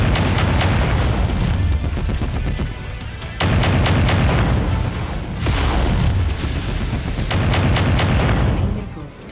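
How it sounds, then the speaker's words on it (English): Heavy missile explosions from MechWarrior 5: Mercenaries boom repeatedly in loud, rumbling waves with crackling debris, several large blasts following one another amid ongoing combat noise, with occasional talk. "Missile. Target destroyed."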